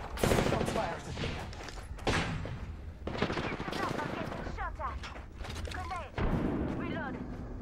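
Gunfire from the video game Apex Legends crackles in bursts over a steady bed of talk, with sharp shots and rapid volleys loud and close throughout.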